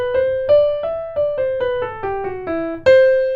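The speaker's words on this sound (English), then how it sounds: "The typical natural minor scale would sound like this" E natural minor scale played one note at a time on a melodic instrument, roughly ten steady, evenly spaced tones that rise and then descend, each fading after its attack, close and clear with no talking.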